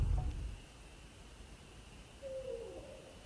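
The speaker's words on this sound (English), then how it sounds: "Barred owl." A barred owl calls faintly from far off, a single short hooting phrase against a quiet night background.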